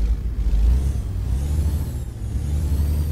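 A Freightliner Classic XL truck engine in American Truck Simulator runs with a deep, rumbling low idle after firing up, steady and close with a faint hiss above, no voices.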